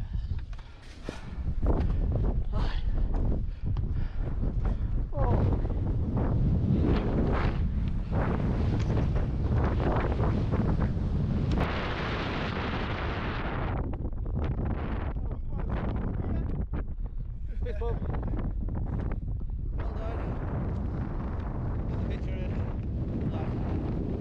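Strong wind roars across a microphone on a mountain summit in the Scafell group of the Lake District, buffeting loudly and continuously with gusts rising and easing, while people talk beneath it.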